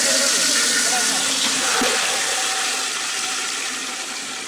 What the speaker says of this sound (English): The pumps and motors are on.